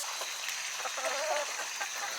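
Backyard chickens cluck and murmur softly over a steady hiss of outdoor background noise. The calls are fairly near and continuous, with no talking.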